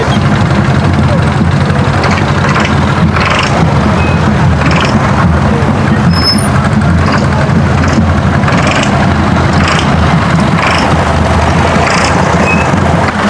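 A tractor engine drones loudly and steadily through a goat procession in a village, its low rumble continuous and close, with crowd noise and faint voices underneath and occasional high beeps.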